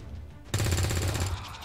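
A single loud gunshot from XCOM 2 erupts abruptly after a brief quiet lead-in, followed by a sustained booming, rattling tail of fire that carries to the end.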